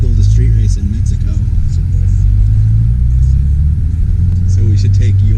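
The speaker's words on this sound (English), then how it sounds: "What exhaust is this? Invidia. It's the Invidia N1 with the 2 pipes." Subaru WRX with an Invidia N1 dual-tip exhaust idling and rumbling steadily close by, a low continuous drone with faint revving, while people talk over it throughout.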